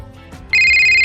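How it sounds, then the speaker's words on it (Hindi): A phone rings with an incoming call: a loud, steady electronic ringtone starts abruptly over a quiet background and holds its bright, high tone. "मेरा एक फोन आ रहा है"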